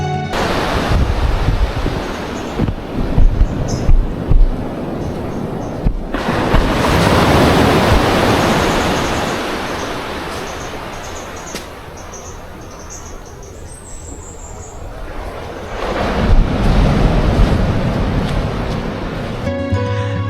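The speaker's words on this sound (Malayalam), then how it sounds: "കേട്ടില്ലേ കടലിൻ്റെ ശബ്ദം?" Sea waves wash onto a rocky beach at low tide near a Thai gypsy village, a steady loud surf roar that rises and falls in long swells with no voices.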